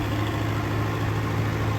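A New Holland 850 tractor engine runs steadily while driving a wheat thresher, a constant low diesel drone with a mechanical hum that holds even and close throughout.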